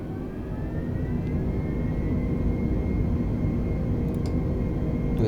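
A steady jet engine roar in Microsoft Flight Simulator drones on with a low rumble and rising whine, constant throughout with no talking.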